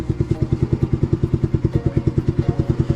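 A snowmobile bought online from China runs in forward gear, its small engine chugging in a fast, even, loud pulse close by with no talk.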